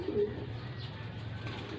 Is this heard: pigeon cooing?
yes